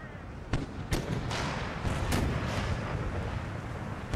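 Artillery cannons fire in Empire: Total War during a Sweden campaign battle, several sharp booms landing irregularly over a dense, loud rumble of battle noise.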